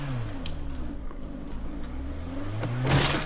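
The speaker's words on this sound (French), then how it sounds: "C'est une voiture en fait." A car engine in State of Decay 2 drones and revs, pitch sweeping down then climbing again to a louder rev near the end, with nobody talking.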